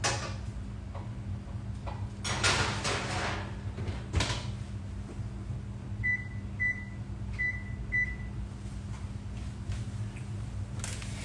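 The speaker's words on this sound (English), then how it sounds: "we're just gonna broil it now" A kitchen oven broiling a keto pizza bake gives a steady low hum of the running appliance, with a few faint clicks and a short series of soft beeps near the end; no one speaks.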